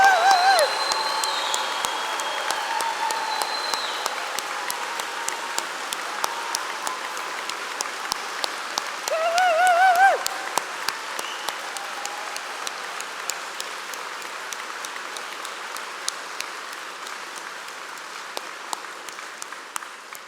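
A large audience at an Open University degree ceremony in London's Barbican Centre claps and cheers for the graduates' supporters, a long, dense, steady roll of applause with a brief swell partway through before gradually thinning.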